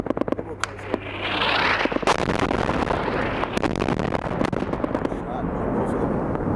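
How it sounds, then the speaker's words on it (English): Bombs striking an enemy staging area in a combat zone, a heavy blast followed by a long rumbling roar and crackle, with voices talking over it. "That was our bombs. Huh? That was our bombs. No, both of them. There's 2 bombs."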